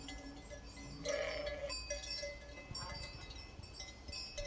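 Sheep and lambs of a migrating flock bleat softly at a distance, several overlapping calls with faint clinking of bells over a quiet outdoor background.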